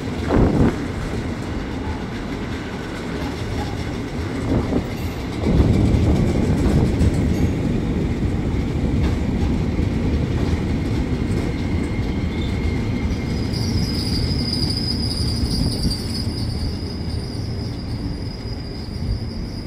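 A KRL commuter train rumbles steadily as it departs the upper level of Manggarai station, Jakarta, wheels rolling and clattering, with a faint high squeal of wheels toward the end.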